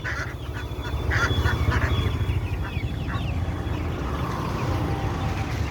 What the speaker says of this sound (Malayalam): കോഴികളും താറാവുകളും.